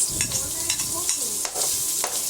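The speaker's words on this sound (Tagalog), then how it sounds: "igisa lang po natin ng maigi hanggang sa mag-translucent ang sibuyas" Onions sautéing in hot oil in a pan, the start of a Filipino ginisang repolyo with pork, give a steady close sizzle broken by repeated scraping stir strokes, with no talking.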